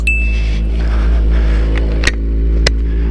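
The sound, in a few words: Kawasaki ZX-14R motorcycle engine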